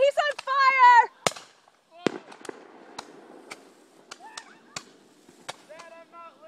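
Roman candle fireworks fired in a backyard battle: a string of sharp, close pops and cracks spaced irregularly, with shouting and excited voices at the start and end.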